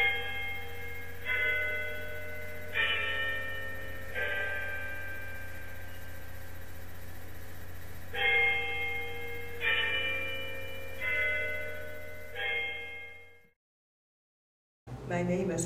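A campus tower's chime bells are played in a slow, steady run of ringing tones that sustain and overlap, and the sound cuts off abruptly near the end.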